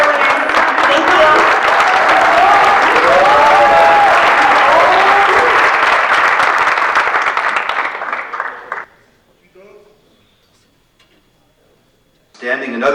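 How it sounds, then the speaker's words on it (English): Loud, dense applause from an audience at an awards ceremony, with cheering voices mixed in, sustained for about eight seconds before fading to near silence, then clapping briefly resumes at the end. "another round of applause for all of those winners"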